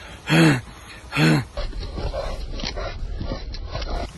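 Two sharp, voiced huffing breaths mimic a runner's heavy mouth breathing, followed by softer rustling background noise.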